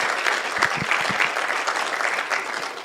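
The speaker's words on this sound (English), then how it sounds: "I believe the CS deserve a better applause." An audience at the Kenya Internet Summit and .KE Awards gives a steady round of applause, dense overlapping clapping filling the room for the full few seconds, with no speech over it.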